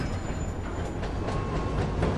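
Train in the video game Dead Rising 2, a loud continuous rumble of rolling wagons with rhythmic clattering throughout.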